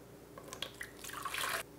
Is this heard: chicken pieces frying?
no